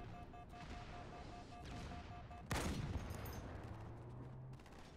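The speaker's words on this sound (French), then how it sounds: "J'entendais le sniper." A single sharp sniper rifle shot cracks loudly midway through a Halo match, standing out against quiet ambient game sounds and a low hum before and after.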